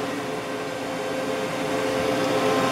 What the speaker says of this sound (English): And I like to use my vacuum.